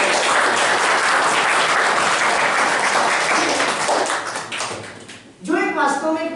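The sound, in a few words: audience applause for the college principal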